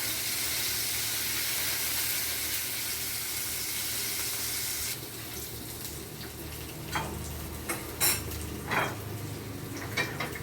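Paneer fries in oil in a pan with a loud, hissing sizzle. The sizzle softens about halfway through, and a few utensil clinks and scrapes follow against the quieter frying.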